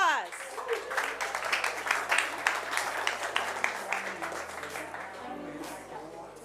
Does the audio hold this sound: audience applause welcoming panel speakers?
yes